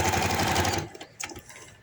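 A sewing machine stitching a handkerchief baby frock runs loud and steady for under a second, then stops, leaving a few faint clicks and handling noises.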